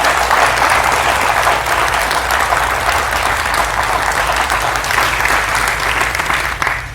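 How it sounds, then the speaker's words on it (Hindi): A studio audience on a Hindi talk show greets the guest, author and Advaita teacher Acharya Prashant, with loud, sustained applause that fills the whole stretch without a break. "आचार्य प्रशांत सत्य सनातन में जोरदार तालियों से स्वागत है।"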